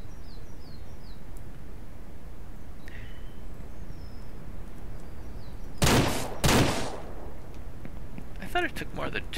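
Two sharp, loud gunshots crack in quick succession in the video game Ranch Simulator against a quiet outdoor ambience with faint bird chirps, followed by a softer echoing tail.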